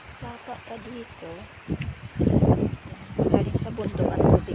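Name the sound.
mountain stream flowing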